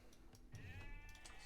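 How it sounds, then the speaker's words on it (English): A single sheep bleat from the Age of Empires II strategy game, a wavering harmonic cry lasting about a second, heard clearly over a low, steady bed of game ambience with no talking. "So a sheep."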